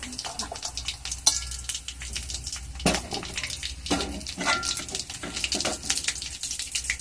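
Chicken 65 pieces fry in hot oil with an uneven crackling sizzle, mixed with clinks and scrapes of a utensil against the pan and occasional louder pops.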